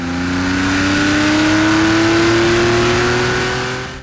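A 1982 Porsche 911 SC engine revs up close and loud, its pitch climbing steadily toward about 4,000 RPM in one sustained pull lasting around four seconds, with no talking.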